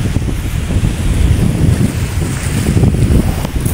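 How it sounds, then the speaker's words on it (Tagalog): Strong wind blowing hard by the sea near the shore as high tide approaches, a loud continuous roar buffeting the microphone with a surf-like rumble underneath, no voices. "Sobrang lakas lang ng hangin."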